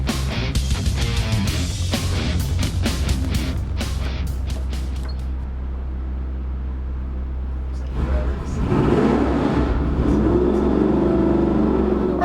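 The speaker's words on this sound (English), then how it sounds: "we got that little 350 running" A small-block 350 engine with Edelbrock Victor Jr intake, Hooker headers and a 750 double-pumper Holley runs loud on a dyno, with rising revs and a steady roar, then a surge near the end, while people talk over it.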